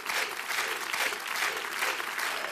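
A studio audience applauds Sylvie Vartan as she is welcomed onto a French television show, with dense, steady clapping that stays loud and even throughout.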